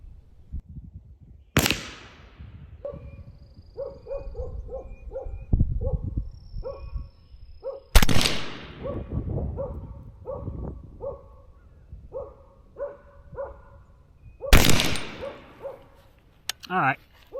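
Three suppressed shots from a 300 Blackout short-barreled rifle with a DeadAir Sandman suppressor, firing handloaded rounds, come as sharp loud cracks spaced several seconds apart, with talk and other small sounds in between.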